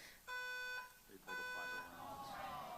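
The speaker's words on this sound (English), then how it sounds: "They're trying to stop the event by pulling a fire alarm" Fire alarm pulled during a live speaking event, two long harsh buzzing tones roughly a second each with a short gap, echoing through the venue with crowd murmur and voices underneath.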